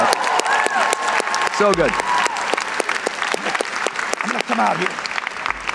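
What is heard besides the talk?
audience applause for Jeff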